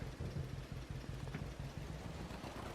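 Farm tractor in Farming Simulator 25 idles with a steady low, pulsing engine rumble and a faint hiss of rain behind it.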